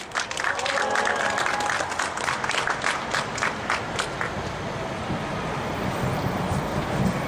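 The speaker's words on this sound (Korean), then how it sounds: "힘찬 박수 부탁드립니다" Audience applause for a singer at an outdoor protest culture rally, a dense, steady wash of clapping that holds for several seconds with crowd voices mixed in.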